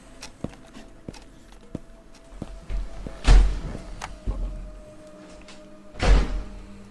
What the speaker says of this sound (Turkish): Kapıyı örtüyor lan iblis